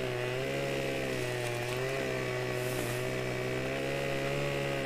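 A chainsaw in Farming Simulator 15 runs steadily while cutting branches, giving a continuous buzzing drone with a slight wavering pitch and no pauses, loud and close.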